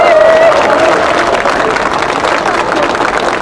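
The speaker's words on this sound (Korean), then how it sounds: "여러분 큰 박수로 환영해 주시기 바랍니다" Loud, dense applause from a crowd at an outdoor campaign rally welcoming Professor Cho Kuk, a continuous wash of clapping with a faint tone ringing through the opening moments.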